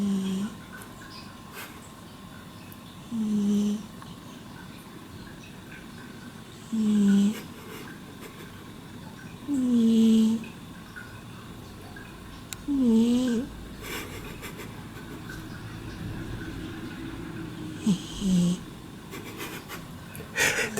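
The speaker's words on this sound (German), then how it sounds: "Voll am Schnarchen." A Chartreux cat snores softly at close range, with six or seven evenly spaced nasal snores every few seconds against a quiet room.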